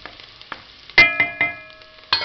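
Chopped onion frying in a pan for lečo with sausage makes a quiet sizzle, punctuated by several sharp, ringing clinks of a utensil against the pan, heard close up with no talking.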